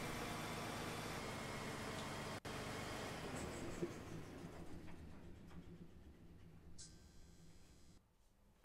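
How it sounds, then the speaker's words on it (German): Simulated engine sound from a Siku Control remote-control crawler toy, a steady low mechanical hum heard alone at low volume that switches off near the end. "können wir wieder den Motorsound der Raupe ein- und ausschalten"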